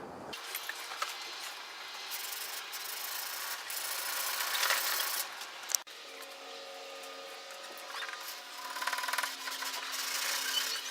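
A Damascus steel blade is hand sanded with sandpaper in steady back-and-forth strokes, a close continuous rasping with a brief pause midway and no talking.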